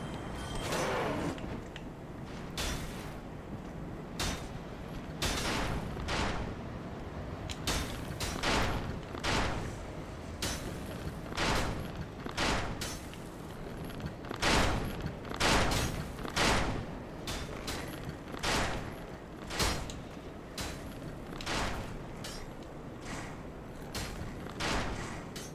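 An enemy in Dark Souls firing again and again, a long run of sharp impact blasts and thuds spaced irregularly, some in quick clusters, loud and close throughout.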